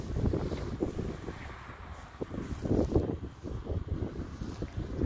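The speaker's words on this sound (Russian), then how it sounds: "очень-очень сильный ветер" Strong gusting wind buffeting the microphone in uneven rumbling bursts, loud and close throughout, outdoors beside a wooden house being set alight.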